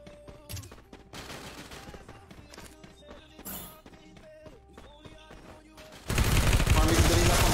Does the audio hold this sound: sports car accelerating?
no